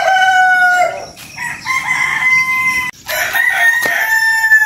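A rooster crows loudly and close by, several long strained calls in a row, with some clucking between them and no talking.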